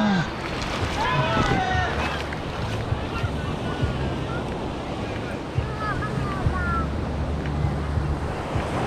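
Waves roll in at Batu Bolong beach in Bali, with steady surf and gusty wind buffeting the microphone while people talk over the top.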